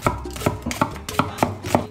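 A kitchen knife chops a small onion on a cutting board with about nine sharp, evenly spaced knocks in quick rhythm, close and clear with no talking.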